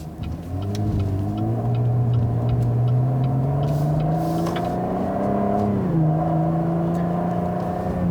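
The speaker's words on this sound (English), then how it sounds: "I definitely want to try another acceleration run in this car" A 2018 Cadillac ATS-V engine revving up under hard acceleration, its pitch climbing steadily, then dipping at a gear change before rising again.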